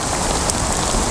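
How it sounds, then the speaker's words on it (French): Hail pelts down hard outdoors, a dense constant crackling patter of stones striking surfaces close by, loud and unbroken with no voices. "Allez, la grêle."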